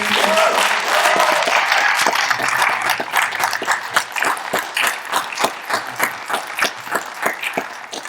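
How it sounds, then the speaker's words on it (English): Audience applause after a live Q&A at a film festival screening: a full, dense burst of clapping that thins over several seconds into scattered individual claps. "Can we give another round of applause for Erin?"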